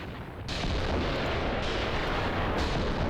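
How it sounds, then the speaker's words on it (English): Artillery fire in the wargame Graviteam Tactics, a steady, heavy rumble of distant shelling that swells after a quieter start and holds dense and continuous to the end. "Well, maybe the artillery will do much."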